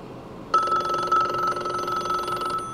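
An incoming call sets a telephone's electromechanical bell ringing after a brief quiet pause, a loud, close, rapidly trilling clang that sustains for about two seconds before cutting off.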